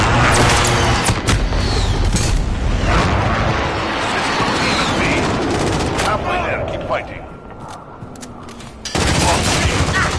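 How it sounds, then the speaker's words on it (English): Precision airstrike explosions in a Call of Duty hardpoint and headquarters match: a dense barrage of booms and rapid gunfire at full volume, thinning out briefly before the heavy blasts surge back at the end. "Friendly precision airstrike on the way!"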